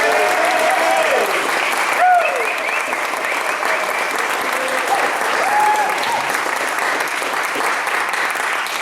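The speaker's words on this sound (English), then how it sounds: "give a great warm welcome and an round of applause to Kwame Dawes" Sustained, loud audience applause at a poetry reading, dense clapping that continues evenly throughout with some faint voices mixed in.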